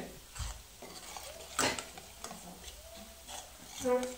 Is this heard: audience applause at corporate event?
no